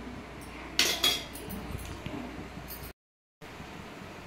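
Salt being stirred into cauliflower gravy in a pot brings two quick metal clinks of a spoon against the pot near the start, then faint scraping and a brief cut to silence.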